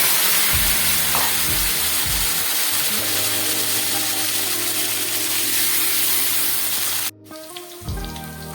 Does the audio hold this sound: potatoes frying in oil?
yes